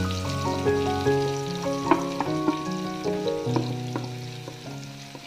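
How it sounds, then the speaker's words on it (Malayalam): Onions, curry leaves, garlic, ginger and green chili sauté in a pan for fish molly, a steady close sizzle broken by scraping stirs and a few sharp clinks of the spoon against the pan. "അതുവരെ നമുക്ക് ഇതൊന്ന് വഴറ്റി കൊടുക്കാം"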